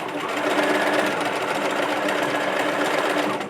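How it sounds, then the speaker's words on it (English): A sewing machine runs a zigzag stitch across two raw fabric edges of a waxed fabric bag, a loud, close, unbroken mechanical whir with rapid rhythmic clatter from start to finish. "we're going to stitch across these two ends, the two raw edges, with a zigzag, and then back over it again"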